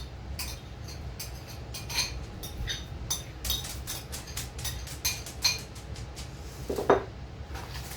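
Melted butter being stirred into graham cracker crumbs in a bowl in a home kitchen, giving soft repeated scraping and clinking of a utensil against the bowl, close and moderately quiet, with no talking.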